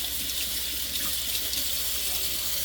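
Water runs steadily from a sink tap while a moka pot is cleaned, a continuous close hiss and splash with no talking.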